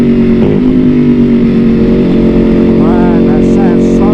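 A Ducati Panigale V4R fitted with an Akrapovic race exhaust roars loudly and close, its engine note shifting and blipping as if through downshifts.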